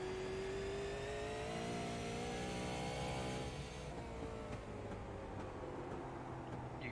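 A race car engine at North Wilkesboro Speedway rises steadily under throttle, then the note drops and settles as the driver comes off and brakes. It is a close, continuous mechanical drone with no talk.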